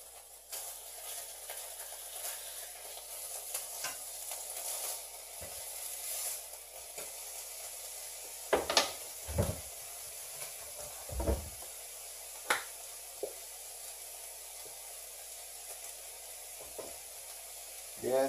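Food fries in a pan with a continuous close sizzle and hiss, broken by occasional clinks and stirring scrapes, no talk over it.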